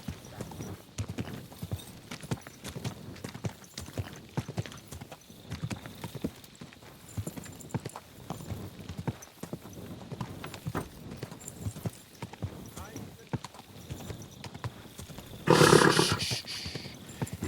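Horse hooves clip-clop in a steady rhythm, close and clear, in Kingdom Come: Deliverance II, followed near the end by a brief louder burst of noise.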